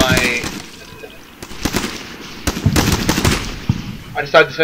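Gunfire in the video game Combat Mission: Shock Force, with fire teams in a building shooting at platoons in an urban area: clusters of sharp, loud shots and short bursts crackling at varying distances over a steady background.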